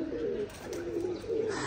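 Pigeons at a pigeon club loft coo in soft repeated low rolls, close by and fairly faint, with a steady background hum.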